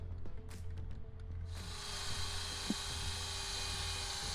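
A power drill runs steadily, cranking an RV front stabilizer leveling jack, a continuous whirring drone that thickens after a brief start, close and fairly loud with one small clank partway through, no talking.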